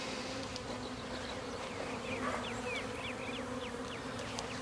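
Bees buzz steadily and softly, with several individual insects darting past close to the ear over a constant low drone.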